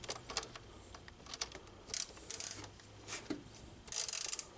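Ratcheting clicks ring out in short bursts as a wrench loosens bolts on a car A/C unit. The bursts are close and sharp, with quiet gaps and small mechanical knocks between them.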